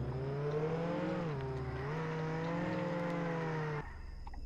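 A car drifts in Roblox Jailbreak with a steady, tonal engine whine that dips and rises in pitch as it slides, holding loud for several seconds before cutting off abruptly.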